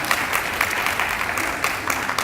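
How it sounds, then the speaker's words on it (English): Applause from a gathered audience at a new teacher orientation, steady clapping that fills the room at moderate volume throughout, with no voices on top. "we can give her a round of applause"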